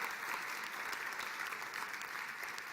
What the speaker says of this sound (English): give him a round of applause on winning the Association Executive of the Year